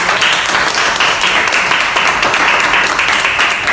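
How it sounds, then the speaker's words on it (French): An audience applauds steadily and loudly at a live demonstration of Superklean towels as a volunteer comes forward, a dense wash of clapping that holds throughout without a break. "Acclamons pour papa."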